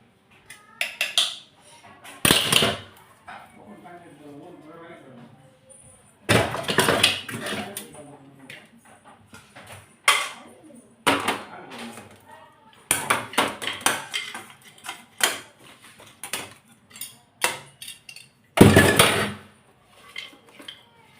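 Pots, pans and dishes clatter as they are set into a home kitchen sink for washing, in several loud bursts of clanking metal and crockery with quiet pauses between, and no talking.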